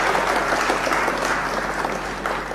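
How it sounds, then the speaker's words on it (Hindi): Loud, dense applause from a large crowd at a public event in Moradabad, Uttar Pradesh, a continuous roar of clapping throughout. "तालियां बजनी चाहिए"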